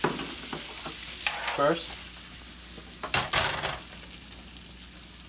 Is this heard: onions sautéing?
yes